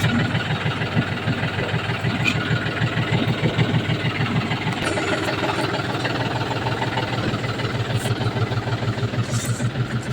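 A tractor engine runs steadily at close range on a village farm, with a loud, even low throb and rapid regular pulsing throughout and no voices.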